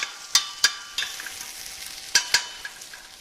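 Onions browning in a frying pan for a turkey sauté: a quiet, even sizzle with a handful of crisp utensil clicks against the pan, near and unaccompanied by speech.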